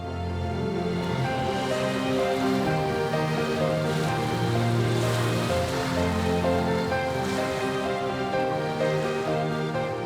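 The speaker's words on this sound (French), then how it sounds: "le retour de la houle océanique, si chère aux surfeurs" Ocean swell rolling onto the wild, muddy coast of French Guiana, a steady broadband wash of surf that swells and recedes continuously and fairly loud, with no voices.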